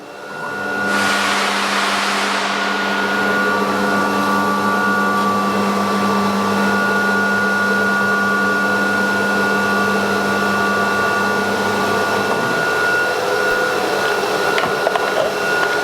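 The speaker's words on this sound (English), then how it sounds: "Now let me move the machine, show you all the details." An S-series CNC router with a six-zone vacuum bed hums loudly and continuously, a steady droning motor and vacuum whine holding through the whole stretch with a slight shift near the end and no talk.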